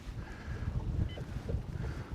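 Fishing boat motor running while underway on a windy winter day, a steady low drone with wind buffeting the microphone throughout.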